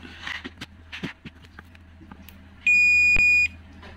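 A multimeter continuity test on a shorted component in a Toshiba 39-inch LED smart TV, model 39L4300VJ: a steady high-pitched beep sounds once for under a second, clear and close, after faint rustling and tapping.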